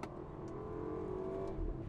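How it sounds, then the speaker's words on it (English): A turbocharged four-cylinder engine in a 2018 BMW X2 in sport and manual mode accelerates with a steady, rising drone, heard from inside the cabin with little exhaust note. "It's hard to make a turbocharged 4-cylinder sound that great"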